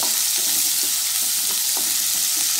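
Chopped onions sizzle in oil in a pan for a parwal curry, a steady bright hiss with faint stirring scrapes and small pops, close by and with no talking.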